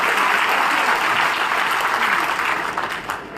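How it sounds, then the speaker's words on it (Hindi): An audience at a live event in Rewa claps for a mother, a dense, loud burst of applause from many hands that holds steady and then begins to thin out toward the end. "एक बार जोरदार ताली मम्मी के लिए भी बजनी चाहिए।"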